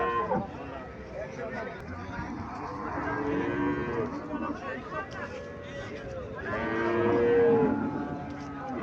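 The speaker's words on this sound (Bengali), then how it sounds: "এখানে একটা গাভী দেখা যাইতেছে" A cow moos repeatedly at a busy village cattle market in Comilla, long drawn-out lowing calls rising over the crowd's background chatter and nearby talk.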